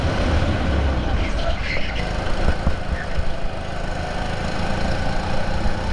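A go-kart engine drones continuously and close while racing in a karting league, a steady buzzing roar with road and wind noise throughout.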